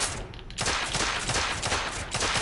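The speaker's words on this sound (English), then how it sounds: "It does like a pistol thing." Gunfire rings out in The Order: 1886, with a dense, rapid run of pistol shots packed closely together after a brief lull, loud and continuous with no talk over it.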